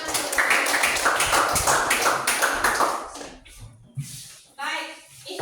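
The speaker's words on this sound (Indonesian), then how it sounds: "kita tepuk tangan untuk kelompok" A classroom group applauds after a student group's presentation, with dense, lively clapping for about three seconds before it thins out and people start talking.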